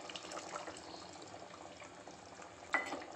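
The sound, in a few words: pouring tamarind water into boiling curry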